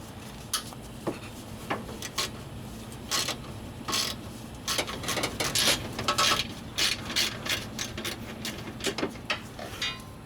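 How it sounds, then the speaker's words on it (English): A 1/4-inch extended ratchet loosens 10mm bolts on the radiator cooling fan and AC condenser fan assembly of a 2009-2015 Honda Pilot, giving close, repeated clicking pawl bursts in an irregular rhythm with no speech. "I'm just getting to those bolts with an extended 1/4" ratchet"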